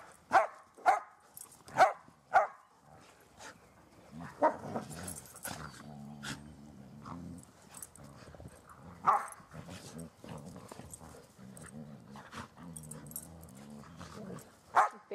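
An older dog barks in sharp, loud single yaps while a smaller dog romps around during play, with scattered barks spread across the stretch, growly low play noises between, and a person talking softly.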